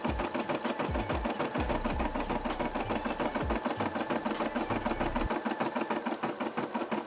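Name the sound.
Brother SE600 embroidery machine stitching a Nike check design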